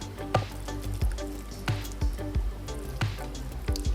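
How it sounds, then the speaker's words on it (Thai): Coconut milk poured over cooked sticky rice, heard as a series of close, wet drips and splashes at an uneven rhythm, with no talking. "ทีนี้เราจะเทน้ำกะทิลงไปนะคะ"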